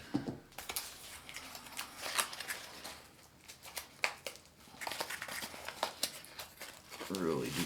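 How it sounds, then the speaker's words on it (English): Packing tape being sliced and a cardboard box for a Cold Steel Recon 1 FDE tanto folding knife torn open, with a steady run of crinkling, scraping and tearing rustles close by. "Cut the tape there."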